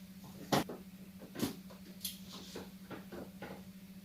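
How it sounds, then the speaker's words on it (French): Drawers sliding open and shut in a quiet room, a couple of sharper wooden knocks followed by softer scrapes and rattles, moderately close, over a steady low electrical hum, with no talking. "il a fallu que j'ouvre les tiroirs pour savoir"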